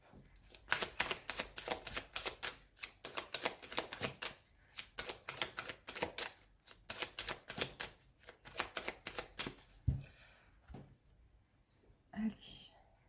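A deck of oracle cards being cut and shuffled by hand: rapid, crisp riffling flicks in quick bursts, close and fairly quiet, with a few soft pauses and taps near the end.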